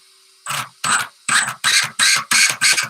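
An off-road RC car's drivetrain slips under held throttle, giving seven short, loud, close-up bursts of whirring grind in a quick, regular rhythm with brief pauses between them.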